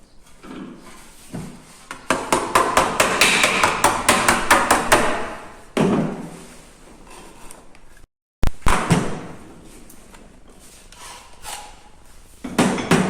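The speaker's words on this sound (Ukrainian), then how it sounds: "починаємо закручувати заготовку на пруток" Hammer blows curl a thin sheet-metal blank around a rod while making a dustpan, sounding as dense runs of sharp metallic strikes. The strikes come in quick bursts with brief pauses between them, close and loud.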